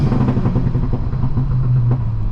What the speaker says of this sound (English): I'll put the thing into neutral, and we'll just kind of free rev it so you guys can kind of hear what that sounds like.